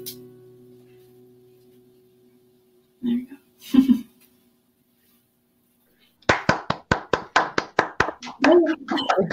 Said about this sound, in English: it's just like ghost clapping